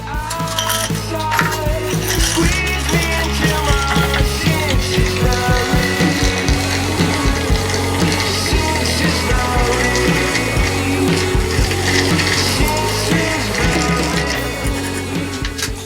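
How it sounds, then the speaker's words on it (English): Ice cubes rattle and clink steadily inside a mixing glass as a Rob Roy cocktail is stirred with a bar spoon, a continuous, close, busy jingling over background music. "We are going to add some ice, and we are going to stir this thing up good"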